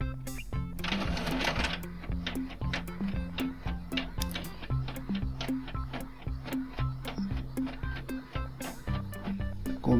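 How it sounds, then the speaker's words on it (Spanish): A printer prints the inner side of a triptych made in Word, with a quick mechanical whir at the start followed by a rapid, regular ticking and clacking of the print head. "ahí está impreso la parte interna del tríptico"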